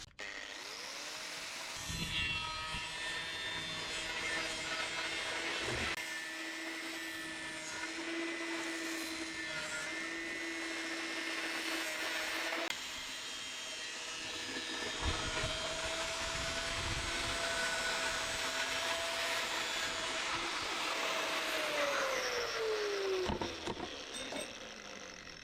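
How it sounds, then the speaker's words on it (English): An angle grinder bites into a marked spot on a steel beam, a sustained high whine with rough grinding texture that runs loud and close for about twenty seconds, then spins down, with a few brief bumps in between. "I already marked this spot and I have to grind it out."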